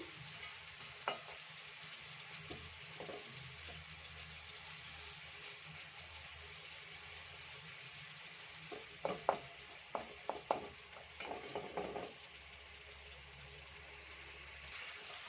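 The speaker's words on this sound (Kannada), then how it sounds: "ಪನ್ನೀರ್ ಕೂಡ ಚೆನ್ನಾಗಿ ಫ್ರೈ ಆಗಿದೆ" Paneer cubes fry in a pan for paneer pulao, a faint steady sizzle with a burst of clinks and scrapes from stirring partway through, and no voices.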